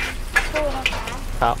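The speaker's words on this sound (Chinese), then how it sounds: "前面这一家炒萝卜糕，哇好吸引，但油烟好大" Radish cake fries in oil at a street cart in an old-town market in Phitsanulok, northern Thailand, with a steady crackling sizzle running beneath a person talking.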